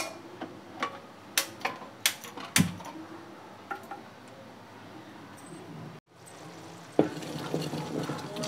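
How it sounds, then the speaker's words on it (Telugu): A spoon stirs boiling jaggery syrup in a pot on the stove, giving a string of sharp ticking knocks over a steady bubbling hiss, with a brief dropout and then renewed bubbling. "పాకం మరుగుతుంది, తిప్పుకుంటున్నాను."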